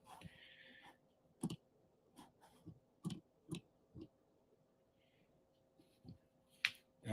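Sharp computer mouse clicks arrive one at a time at irregular intervals, several spread across the stretch, close and fairly crisp over a quiet steady background hum, with no talking.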